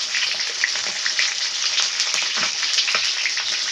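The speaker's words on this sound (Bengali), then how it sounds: "এখন মাছ ভাজছি" Fish, including a fish head, fries in oil, producing a loud, dense, continuous sizzle with fine crackling pops close up and no voices.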